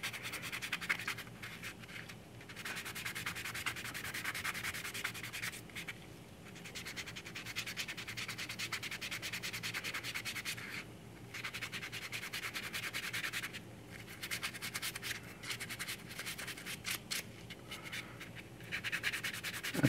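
Steady scratchy rubbing of a sanding stick on a 1/6 scale vinyl figure kit, close and continuous with brief pauses between strokes.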